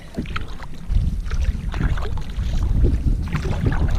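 Solo canoe paddled on water during a June trip, with soft rhythmic paddle strokes and water splashes close by, mixed with light wind rumble across the mic.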